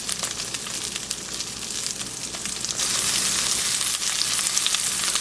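Young hosta shoots fry in a pan, a steady dense sizzle with crackling pops that grows louder partway through, close and continuous with no talking.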